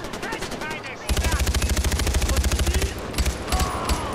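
Rapid automatic machine-gun fire from the video game Far Cry 4, a loud sustained burst of evenly spaced shots after a short pause, with a few scattered shots trailing off near the end.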